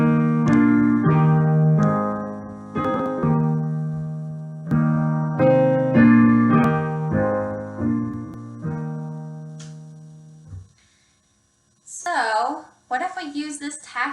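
Hymn tune Redhead 76 (Go to Dark Gethsemane) played on keyboard in its original harmonies: sustained chordal phrases for about ten seconds, then a pause and a voice speaking at the end.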